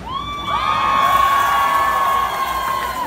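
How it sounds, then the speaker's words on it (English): A New York City crowd greets Kamal Haasan with sustained cheering and a piercing whistle-like tone, loud and continuous over a broad roar of voices, swelling slightly in the middle before holding steady. "Applause is probably the only reason I perform."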